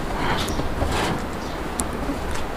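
Racing pigeons coo softly in a cage amid steady broadband background noise, with a few brief sharper calls scattered through a short stretch.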